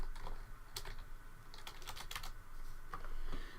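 Keystrokes clatter on a computer keyboard as an add-on name is typed into a search filter, several quick bursts of taps with short pauses between them, close and fairly faint, with no talking.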